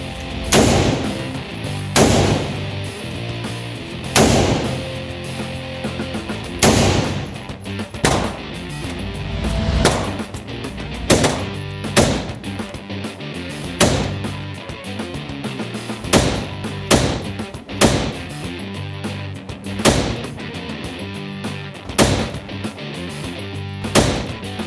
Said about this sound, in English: this gun is pretty loud and has a big boom to it